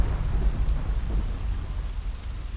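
Rain falls with deep rolling thunder, a continuous low rumble under steady rainfall heard alone, with the rumble easing slightly toward the end.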